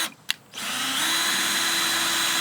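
A power drill bores a hole into a Boston Whaler boat behind the rubrail insert, starting after a couple of small clicks and then running as a steady, loud, continuous whine for about two seconds.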